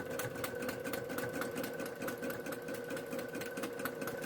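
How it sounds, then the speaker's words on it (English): A sewing machine stitches a stuffed memory bear arm piece, a close steady mechanical whir with a fast regular needle rhythm that runs throughout without talk. "I just bring the next arm piece to my sewing machine, stitch on, back stitch"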